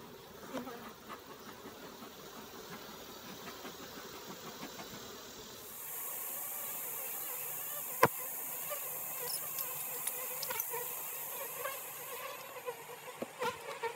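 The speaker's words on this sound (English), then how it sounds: "talk about a bunch of bees." Dense swarm of honey bees buzzing around a sick hive, a continuous close whining drone that swells louder midway as the hive is opened, with occasional bees zipping past the microphone.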